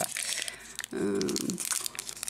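A foil booster pack wrapper of Frontières Franchies trading cards is torn open and crinkled up close, with brittle crackling throughout and a brief murmured voice in the middle.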